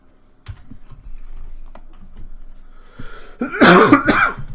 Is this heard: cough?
yes